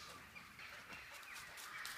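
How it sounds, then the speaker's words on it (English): Chickens clucking in a farmyard, a steady low murmur of scattered hen clucks and faint bird calls over outdoor background noise, fairly distant and continuous. "All the birds."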